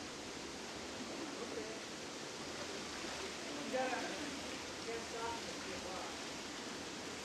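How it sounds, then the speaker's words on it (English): Water draining and splashing from a fine mesh seine at a warmwater fish hatchery, a faint, steady broadband rush under a quiet voice. "Water is drained from the seine and the fry are poured into a bucket of water"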